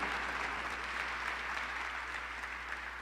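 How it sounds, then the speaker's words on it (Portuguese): A church congregation applauds in one steady, dense burst of clapping that holds even throughout, with a louder thump right at the end. "Eu queria que a igreja aplaudisse."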